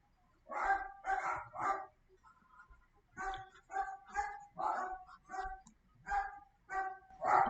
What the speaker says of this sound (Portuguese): O cachorro tá atrapalhando?